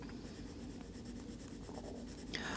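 Soft, steady scratching of a Lyra Rembrandt Polycolor black hard pencil on paper, a smooth continuous writing stroke heard close up and alone.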